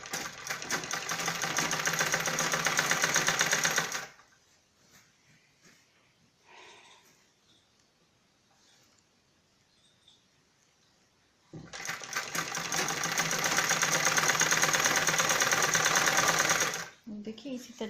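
An electric sewing machine stitches a salwar waistband channel for a drawstring in two loud, steady whirring runs, separated by a quieter pause with faint handling sounds.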